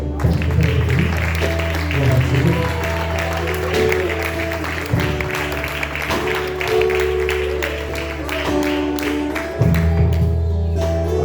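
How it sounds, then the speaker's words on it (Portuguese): A church congregation claps to welcome the preacher, a sustained rush of many hands mixed with keyboard or organ music and a voice speaking over the top, loud and close throughout. "Recebam o servo do Senhor com as palmas no nome de Jesus"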